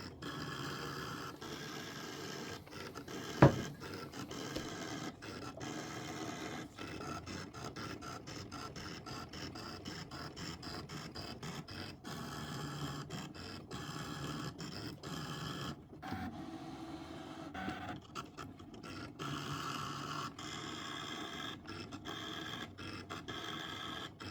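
A Brother ScanNCut machine cuts appliqué fabric pieces for a quilt, giving off a steady motorized whir with rapid scraping and ticking passes and a sharp knock early on, close and alone.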